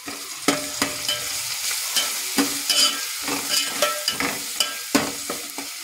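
Sliced onions with turmeric and salt are stirred in a frying pan: a constant sizzle broken by repeated scraping strokes of a spoon against the pan, coming roughly every half second in an uneven rhythm, close and clear, with no talking.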